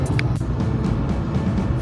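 Cabin of a moving Subaru on the road: a steady low engine and road rumble with faint tire hiss, plus a couple of brief knocks and rattles, close and continuous.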